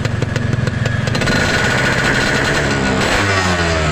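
A Yamaha RX-King two-stroke motorcycle at a wash revs loudly up close, its engine rising from a quick popping rattle into a sustained buzzing roar that holds strong to the end.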